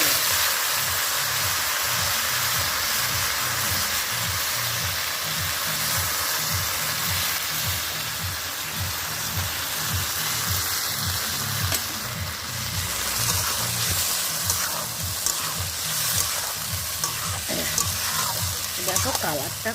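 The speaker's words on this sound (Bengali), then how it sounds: "এবার মাংস মাখানোটা ঢেলে দিলাম।" Marinated goat meat frying in rendered goat fat gives a loud, continuous close sizzle with a rhythmic pulsing crackle and occasional stirring scrapes.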